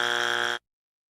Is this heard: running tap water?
no